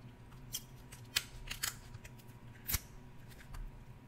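Scissors snip through boiled Dungeness crab shell in a few sharp, close cuts spread irregularly across a few seconds, with a louder crunching snap near the end.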